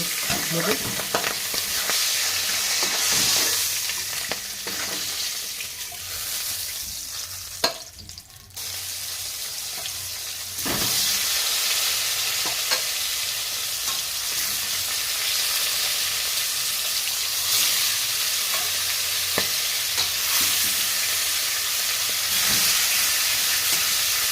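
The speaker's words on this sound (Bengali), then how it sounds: "এবারে মাথাগুলো খুব ভালোভাবে ভেজে নেব" Fish heads fry in hot oil in a kitchen pan, a continuous dense sizzle and crackle that runs steadily throughout, with brief stirring bumps and a short dip partway through.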